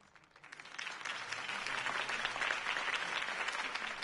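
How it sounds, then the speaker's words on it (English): Crowd applause swells after a campaign speech for Harvey Dent in an animated Batman episode, a steady, dense clapping that rises quickly and holds loud throughout. "could have heard that applause"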